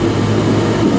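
A Plymouth Valiant engine idles smoothly at low RPM after a tune-up, a steady, loud, close rumble with no stumbling, over about one second.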